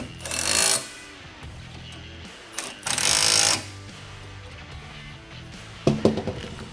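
A power tool tightening carriage bolts on the pedal hardware of a Bad Boy mower, three loud whirring bursts separated by pauses, with the last one short and choppy.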